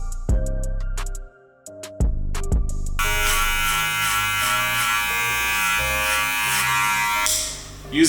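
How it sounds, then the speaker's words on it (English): An electric hair clipper fitted with a number 2 guide comb buzzes in short starts then runs steadily close by while cutting hair, with a continuous motor hum and faint snipping texture. "Using a 2 attachment guide comb on, clipper close to debulk the soft area right along this side."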